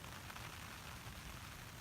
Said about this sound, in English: the rain's starting to come in a bit.